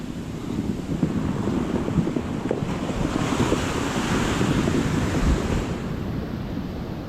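Sea waves surging ashore and flooding against houses, heard as a loud, continuous roar of surf mixed with wind rumbling on the microphone, without pause.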